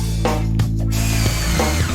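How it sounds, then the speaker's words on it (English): A power drill whirs steadily as new supports are drilled into a restored table with a wooden tabletop, a continuous motor hum with brief pitch dips and no speech. "Then drill in new supports."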